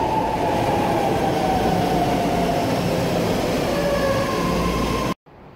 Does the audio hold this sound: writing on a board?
no